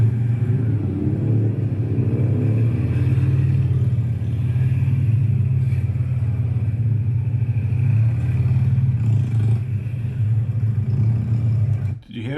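A race car on a motor competition course drones with a loud, low engine rumble that holds steady and then rises slightly before cutting off abruptly near the end.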